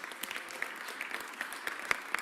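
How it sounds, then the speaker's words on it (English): Audience members at a City of Philadelphia and AFSCME District Council 33 contract announcement clap for the mayor's team, a short, fairly faint burst of scattered applause in a room. "I want to give my team a round of applause"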